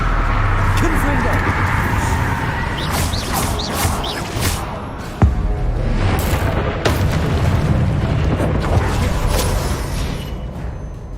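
Blasting Confringo fire spell effects from Hogwarts Legacy, a series of loud booming bursts and crackling impacts with a sharp crash near the middle, continuous and busy throughout.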